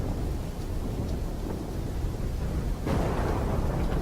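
A thunderstorm in a video game cutscene roars with dense rain and a low, continuous rumble, swelling louder near the end with a heavier roll of thunder.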